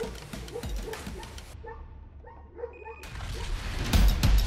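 An Alabai dog confronting a bear on a road, with a few sharp barks and yips at the start and end, separated by a quieter stretch with whimpering and scuffling.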